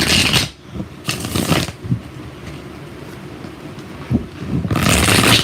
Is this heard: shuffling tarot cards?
yes